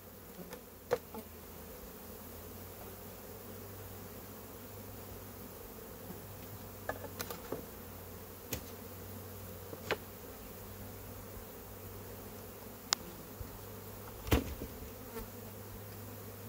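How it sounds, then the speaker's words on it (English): Honey bees in a shook swarm: a steady, faint low buzz of many bees hanging continuously, with scattered sharp clicks and knocks, no one talking. "There's my second shook swarm right there. So, pretty good number of bees."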